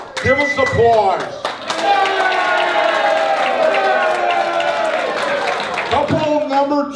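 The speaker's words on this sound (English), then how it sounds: "Give us applause." A reunion audience of the Don Bosco Class of '60 breaks into sustained applause, dense clapping with cheering and excited voices over it, loud and continuous before fading.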